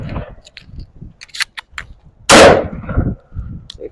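A semi-automatic shotgun fires double aught buck shells in a shooting drill, one sharp, loud blast standing out amid quieter clicks and handling noises.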